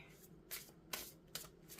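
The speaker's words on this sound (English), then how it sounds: "they keep having me shuffle" Tarot cards are shuffled by hand in three quick riffling bursts, soft and close, with no talking.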